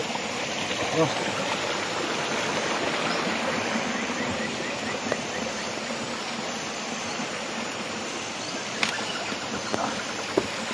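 A creek in a park rushes steadily past, a constant close wash of flowing water broken by a few small splashes and clicks.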